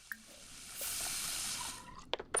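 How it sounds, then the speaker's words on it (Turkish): Dishes are washed at a sink in a life-simulation video game: a soft burst of running tap water in the middle, framed by small clinks and a few quick splashy clatters at the end, fairly faint overall. "Tabaklarımızı yıkıyoruz"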